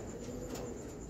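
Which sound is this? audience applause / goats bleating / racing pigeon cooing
racing pigeon cooing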